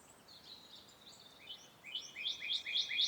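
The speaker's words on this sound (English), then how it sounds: "A cardinal. Do you see it anywhere? He's a bright red bird." A northern cardinal sings outdoors, a series of bright, rising whistled notes that grow louder and repeat quickly toward the end over faint background noise.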